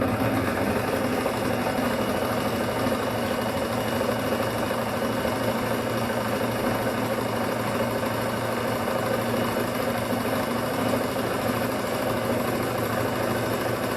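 A sewing machine runs continuously with a steady, even mechanical hum and rapid needle chatter, close and unbroken.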